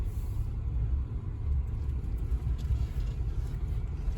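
A 2006 Toyota Tundra with starting trouble drives along, its engine giving a steady low rumble heard from inside the cab with no clear revving and no other sounds.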